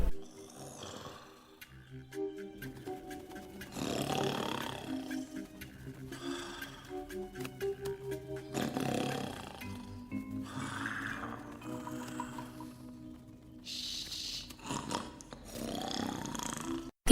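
A cartoon bear roars and growls in deep, rough bursts that recur over about seventeen seconds, with pauses and quieter stretches between the loud outbursts.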